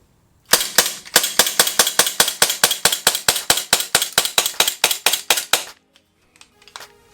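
An Umarex Glock 34 CO2 airsoft pistol firing a rapid string of about twenty-five sharp, close cracks at an even rhythm, then stopping abruptly with faint clicks afterward.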